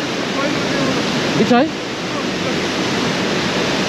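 A waterfall in the Brecon Beacons, Wales roars loudly and steadily, a dense unbroken rush close by, with a brief voice rising over it for a moment.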